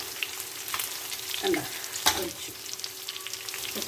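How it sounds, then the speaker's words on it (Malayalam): Fried mustard seed tempering pours into a fish curry with a sharp hiss and steady sizzle, a few bright crackles and a louder burst midway, fairly close with no talking. "കടുക് വറുത്തത് ഞാൻ അതിനകത്ത് ഒഴിക്കാൻ പോകും"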